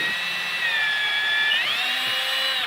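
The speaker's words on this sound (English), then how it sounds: "pre-drill that, throw a screw in it" A power drill whines steadily at high pitch, close and loud, its tone dipping then rising as it bores a small pilot hole for a screw in a wooden rat breeding rack.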